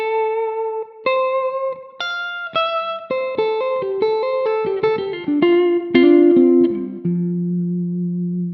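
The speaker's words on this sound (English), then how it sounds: "use the Variax Workbench software that you can get to recreate a sound similar to the Rick Turner" Variax digital guitar set to emulate a Rick Turner Model 1, playing a clean melodic line of single notes and small chord shapes with light effects, ending on a sustained low note, with no talking.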